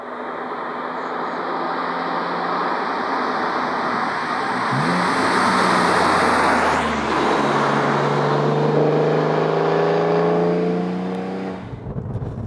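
A Porsche 911 drives along with its engine droning steadily throughout, rising and falling with acceleration and a clear shift partway, loud and close as if from inside the car, with no talking.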